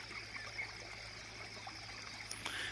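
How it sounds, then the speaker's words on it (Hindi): A village stream flows steadily in the background, a soft continuous trickle of water with faint broadband hiss and no speech over it. "और देखो पानी का आवाज़"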